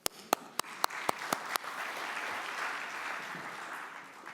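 An audience at a biomedical conference opening applauds, with a few sharp, distinct claps at first that quickly merge into a soft, sustained wash of applause.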